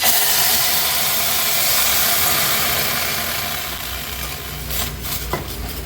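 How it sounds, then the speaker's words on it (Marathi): A loud, steady sizzling hiss of cooked mung dal poured into hot tempering over a high flame, close up and continuous, fading slightly toward the end with a few sharper crackles. "आता आपण जे शिजवलेलं वरण आहे ते फोडणीला घालणार आहोत"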